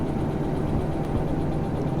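Locomotive engine running in the Derail Valley train simulator game, a steady low rumble and drone that holds evenly throughout with no talk over it.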